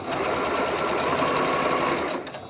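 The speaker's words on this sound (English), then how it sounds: "So we have stitched all the way around" A sewing machine stitches quilt fabric squares for half-square triangles, making a steady, close, continuous whir that holds even and loud before easing off at the very end.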